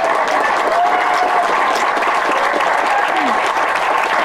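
An audience claps steadily, a dense wash of applause from a sizable crowd that continues without pause.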